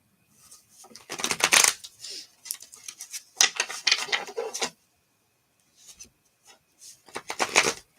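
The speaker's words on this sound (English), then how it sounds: "Okay, I'm going to shuffle the cards." Oracle cards are shuffled in several quick riffling bursts, crisp and close, separated by short pauses and a few soft taps.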